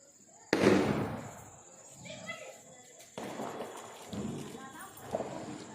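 Small bijili firecrackers bursting outdoors during Deepavali, on damp ground after rain: two sharp, loud cracks a few seconds apart with lighter pops after, while people talk nearby between the bursts.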